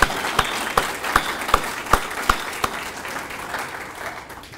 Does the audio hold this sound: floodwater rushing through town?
no